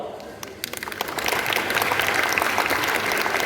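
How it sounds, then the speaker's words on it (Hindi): Clapping from a stand-up comedy audience starts with a few scattered claps, then swells into full, steady applause, with some voices mixed in. "अब अपील है कि हाथ उठे, गर ताली को तो ठोक दो ताली, सोचो मत"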